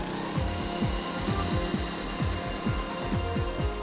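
A turf ventilator attachment on a greensIRON 3900 golf green roller working across a putting green, giving a steady mechanical drone with a regular repeating thumping rhythm, close and continuous.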